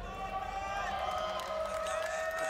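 Arena crowd roaring and cheering for OpTic Gaming at the Gears of War 4 grand final at MLG Columbus, a loud sustained wall of voices with whoops rising throughout.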